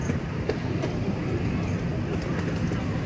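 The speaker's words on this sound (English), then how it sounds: "The train you're riding on is being pulled by a miniature replica of an 1863 CP Huntington steam engine." A ride on a small train pulled by a miniature replica of an 1863 CP Huntington steam engine, a steady rumble and clatter of wheels on track, close and continuous under low talk.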